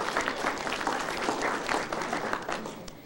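A convention panel audience at BotCon 2002 claps together, a steady, fairly distant patter of many hands that stays even throughout and fades slightly toward the end.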